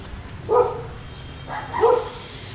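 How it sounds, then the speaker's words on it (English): Small dog barking on a street in Hai Phong, Vietnam: two sharp, close yaps about a second apart over low background noise. "We're getting bullied by the smallest dog I've ever seen."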